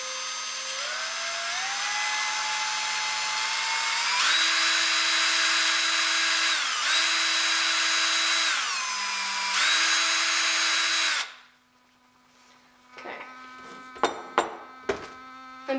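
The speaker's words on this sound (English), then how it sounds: "Careful not to put too much pressure on the bit, and drill straight up and down with the drill." A power drill bores a small hole in a part for a small mousetrap, its motor whining steadily and shifting pitch several times as the bit loads and eases. It then cuts out, leaving a few brief clicks and knocks.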